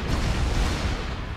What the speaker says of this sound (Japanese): いろんなとこで爆発が起こってるけど